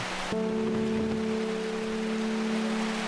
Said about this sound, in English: I forgot it's another rainy day